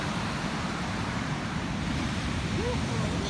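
Ocean waves wash on the shore in a continuous low rumbling surf, steady and fairly near, mixed with wind noise.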